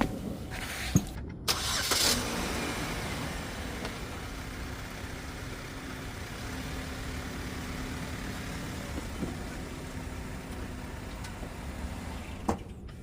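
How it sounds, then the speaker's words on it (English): A 2009 Chevy Cobalt cranks and starts with a brief burst, then settles into a steady, moderately quiet idle while it is backed off ramps, with a few faint clicks and knocks along the way. "All right, let me back this off the ramps, check the oil, and this thing is ready to go."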